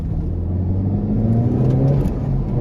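A Honda Civic Type R FK8 accelerates, its engine rising in a steady, close-up rumble and whir with the pitch climbing smoothly, with no voices present.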